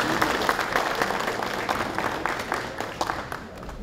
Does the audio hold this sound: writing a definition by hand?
no